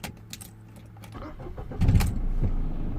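A Mercedes CLK W209 engine cranks and catches near the close, its low rumble swelling into a steady idle after keys jangle and a faint earlier hum.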